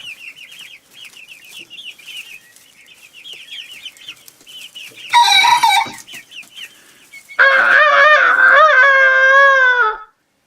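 A person imitates a rooster's crow in a strained, screechy voice, followed by a loud, close rooster crowing in a long drawn-out call, with clucking before it.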